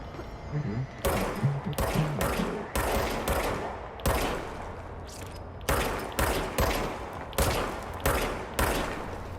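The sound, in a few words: gunfire from the video game Control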